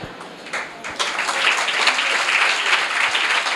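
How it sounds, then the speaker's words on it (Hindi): A church congregation breaks into applause during a sermon, a dense wash of many hands clapping that swells after a second and holds steady, fairly close. "मैं देख रहा था कौन से लोग ताली बजा रहे, कितने लोगों ने समझा।"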